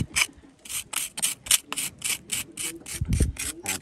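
Rhythmic scraping of a tool raking back mortar joints on a stone gable wall during repointing: about a dozen quick, evenly spaced gritty strokes, close and fairly loud, with no talking.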